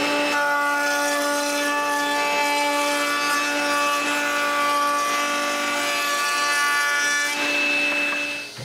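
Steady sawing of maple boards, cutting a half-round profile for moulding on a woodworking machine, a continuous whine with stable tones running loud for most of the clip before tapering off at the end.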